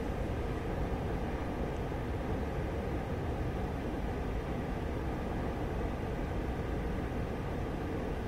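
Steady engine rumble and broadband roar from an airplane flying in the DCS World flight simulator, constant and unbroken at a moderate level, with no voices.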